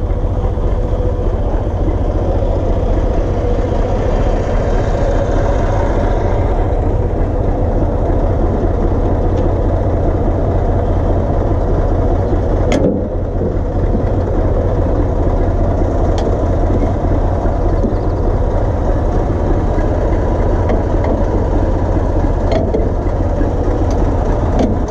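An MF tractor's engine runs steadily and loudly throughout while its hay mower is swung around for the first cut of a meadow, a continuous low rumble with a few faint clicks and knocks.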